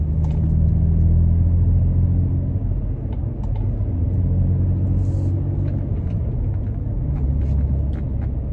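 Toyota Tacoma fitted with aggressive off-road tires rolling along a paved 30 mph residential road, a steady low rumbling tire drone with constant road roar throughout.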